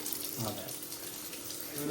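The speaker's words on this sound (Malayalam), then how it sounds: "ചായ വെക്കാൻ വേണ്ടി വെള്ളം എടുക്കട്ടെ" Tap water runs steadily into a vessel in a home kitchen as water is drawn to make tea, a continuous close hiss with faint voices behind it.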